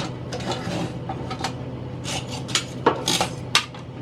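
A knife saws through a homemade burger bun on a cutting board, giving a run of dry scraping and crunching strokes with a few sharp clinks of the blade against the board, close up and with no talk.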